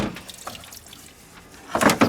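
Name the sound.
water spilling from car wiper motor assembly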